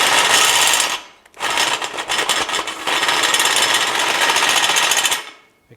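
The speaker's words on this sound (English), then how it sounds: "I'm going to take the step bit here and clean up those welds on the inside." A step drill bit grinding and deburring weld beads inside a steel tube for screw-type jack stands, a loud harsh whirring burst, a brief pause near one second, then a long steady grind before it stops.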